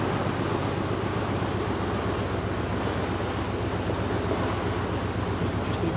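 Water surges hard through newly fitted narrowboat lock paddles at Heyford Common Lock, a loud, steady roaring rush with no breaks.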